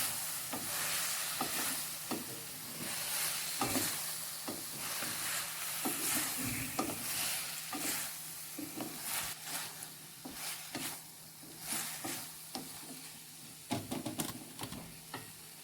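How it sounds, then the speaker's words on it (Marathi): Chilli paneer sauce stirred and fried in a pan, a continuous sizzle with repeated scraping strokes of the spoon against the pan, close and fairly quiet, no talking. "त्यानंतर फ्राय करून घ्यायचं आहे. योग्यरित्या खाली लागू नये म्हणून हलवून घ्यायचं आहे."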